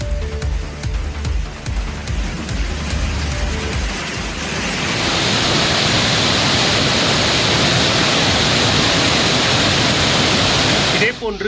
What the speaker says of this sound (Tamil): இதனால் சுருளி அருவியில் நீர் ஆர்ப்பரித்து கொட்டுகிறது.